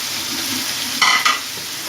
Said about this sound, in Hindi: और इसको हम करेंगे अच्छी तरह मिक्स